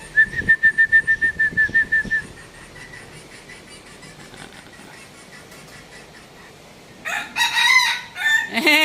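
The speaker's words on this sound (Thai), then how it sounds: "มันขันเลยฮะหม้อแกงเนี่ย" A year-old decoy rooster crows near a Thai chicken keeper, with a run of rapid clucking pulses first, a quieter stretch, then a loud drawn-out crow close at hand.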